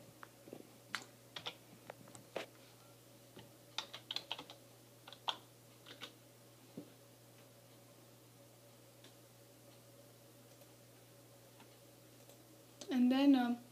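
Typing on a computer keyboard, with scattered clusters of light clicks early on, then quieter stretches, and a brief burst of louder noise at the very end.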